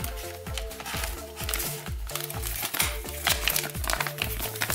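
Plastic packaging for a Bela Ninja 9766 Thunder Swordsman minifigure crinkles steadily as it is opened, close and continuous, while a voice talks over it.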